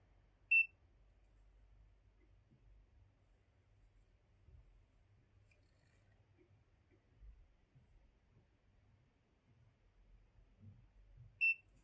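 A TYMO Rovy compact mermaid-waves hair curler gives two short, high electronic beeps about eleven seconds apart as its six-second timer stops, each clear against a faint low background hum.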